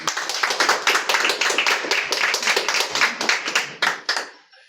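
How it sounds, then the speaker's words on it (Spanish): A church congregation clapping after testimonies at a sermon, a dense run of close, sharp handclaps that stays steady for several seconds, then thins to a few last claps and fades out. "Vamos a dar un aplauso a esos testimonios."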